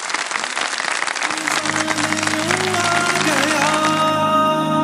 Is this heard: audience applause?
yes